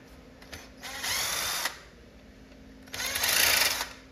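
A power driver backs screws out of an arcade control panel for a Popeye cabinet. Two separate close whirring bursts, each lasting about a second, with quiet pauses around them.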